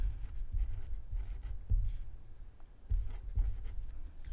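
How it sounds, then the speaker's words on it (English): A pen writing a balance on paper, close and soft, with short scratchy strokes in irregular bursts and brief pauses between them. "I'm gonna go ahead and write that here."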